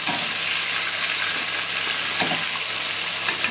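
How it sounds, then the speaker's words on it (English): Yam frying in a pan gives a loud, dense, continuous sizzle close up, steady throughout with faint stirring scrapes and no talk. "I'm going to put some in here to fry it."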